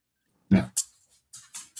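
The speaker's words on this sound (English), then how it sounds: "the dog wants to get involved in the conversation" A dog at a podcast recording gives a few short yips and whimpers, close and fairly loud, in brief separate bursts with quiet between them.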